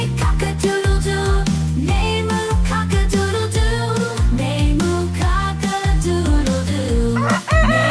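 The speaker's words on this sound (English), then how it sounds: "The roosters on the farm say cock-a-doodle-doo." A rooster's cock-a-doodle-doo crow rises within an upbeat children's farm-animal song, mixed loudly with bouncy bass and rhythmic instrumental backing throughout.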